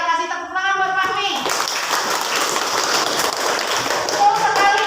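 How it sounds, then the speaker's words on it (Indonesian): Clapping from a classroom of children fills the room after a teacher's cue, dense and steady at close range, with young voices chattering underneath. "kasih tepuk tangan buat Fahmi."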